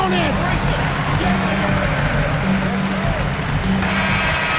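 A home crowd cheers and applauds after a FIBA basketball win, Dominican Republic against New Zealand, a steady roar filling the arena while a commentator talks over it.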